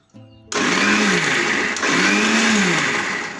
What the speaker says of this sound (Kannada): ಈ ಥರ ಮಿಕ್ಸಿಗೆ ಹಾಕ್ಕೊಳ್ಳಿ